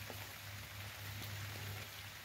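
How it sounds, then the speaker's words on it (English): Rain building toward a downpour outdoors on a Missouri creek while hunting arrowheads, a soft even hiss of falling drops with a steady low hum underneath, constant and fairly faint with no talking. "It's starting to sound like it's gonna be a downpour."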